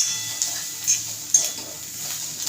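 Spoon scraping and clinking in a pan as roasted masala is stirred into karela sabzi, a few light metallic taps and scrapes over a quiet background.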